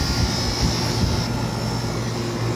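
An old, dirty Carrier air conditioner blower runs with a loud, steady whooshing roar over a low hum, continuous and unbroken with no voices.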